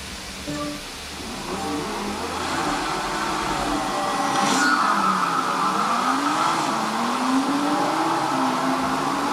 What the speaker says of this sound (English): let's start the race on Forza